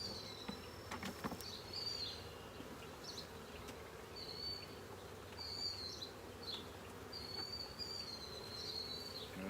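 A steady low hum of many honeybees buzzing close by around an open hive, with faint high chirps from birds in the distance.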